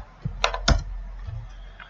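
A few separate keystrokes on a computer keyboard, sharp and close, with soft low thumps between them in a quiet room.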